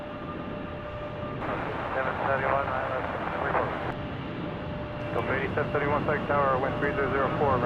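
Boeing 737 MAX airliner departing Salt Lake City airport, a steady broad engine roar held throughout, with people talking over it.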